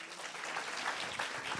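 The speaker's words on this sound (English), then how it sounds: "Everyone, round of applause." Audience applause at a youth Dragon's Den session, a brief steady wash of clapping from a crowd at moderate volume.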